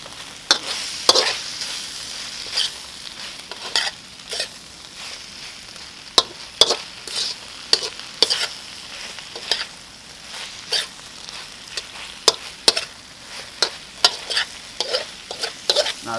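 Broccoli and natural chicken sausage stir-fry in a wok seasoned with Thai chili, sizzling steadily with frequent sharp scraping and tossing clatters from stirring throughout, close and without talk.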